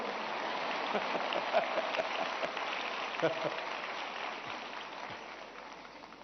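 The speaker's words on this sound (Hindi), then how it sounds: "ये आपकी पसंद की बात आई तो ताली बजाते हो आप लोग" A school audience at an exam-preparation discussion event claps throughout, a steady wash of applause from a large crowd that slowly fades toward the end.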